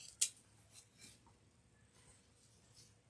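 Scissors make one sharp, crisp snip through wired ribbon for a fall wreath, followed by a few faint rustles of the ribbon, quiet and close, with no talking.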